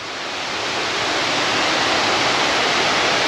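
A swollen, muddy mountain river beside a rough forest road rushes with a loud, steady roar. The broad roar swells slightly at first, then holds constant with no voices.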